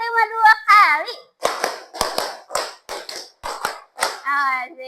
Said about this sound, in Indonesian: Tepuk 4, tepuk 5. Tepuk 5 2 kali.